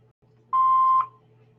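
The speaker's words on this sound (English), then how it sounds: "Please leave your name and phone number after the beep." A voicemail answering machine gives a single clean electronic beep lasting about half a second, loud and steady over faint background hum, then cuts off.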